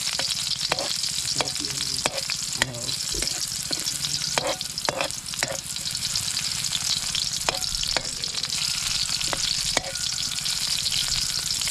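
Bitter gourd leaves and mung beans sautéing in a pan, a steady sizzle and fry broken by repeated sharp scrapes and clinks of a utensil stirring, close and with no talking.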